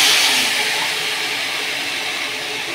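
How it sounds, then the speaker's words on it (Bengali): Chopped banana flower dropped into a hot wok for a Bengali vegetarian dish gives a loud, steady sizzling hiss that begins strongest and eases slightly as it continues, with no talk. "কড়াইটা গরম হওয়ার পর কেটে রাখা মোচাগুলো দিয়ে দেব।"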